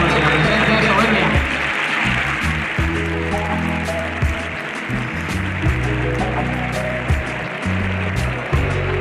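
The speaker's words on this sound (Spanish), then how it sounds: "sí señora, se vale aplaudir" Crowd applause in the stands at a 2021 Valencia recortes contest, a steady broad wash of clapping throughout, heard under a commentator's continuous voice.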